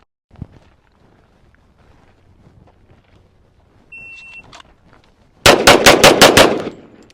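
Kimber Rapide 1911 pistol firing a fast string of about seven shots in quick succession, loud and close, after a quiet stretch with faint shuffling and a brief electronic beep.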